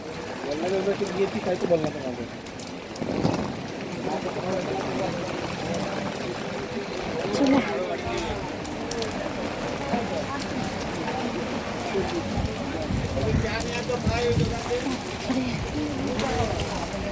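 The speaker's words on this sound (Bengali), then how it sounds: "তো এতটাই বৃষ্টি হচ্ছে কিছু করার নেই তার মধ্যে দিয়ে যেতে হবে" Heavy rain pours down steadily as a dense, continuous hiss and splatter, with people talking over it throughout.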